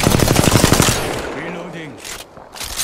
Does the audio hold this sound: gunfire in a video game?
yes